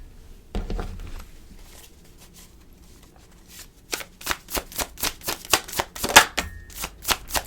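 Tarot cards are handled and then shuffled close up, a few soft slides and taps at first, followed by a quick run of sharp rhythmic riffling snaps.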